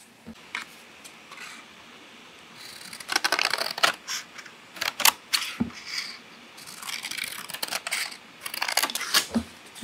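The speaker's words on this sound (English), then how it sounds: "So I'm going to cut these out carefully." Scissors cutting out paper leaf shapes for a small paper plant craft, a series of close, crisp snipping and rustling sounds in uneven bursts, with short pauses between cuts.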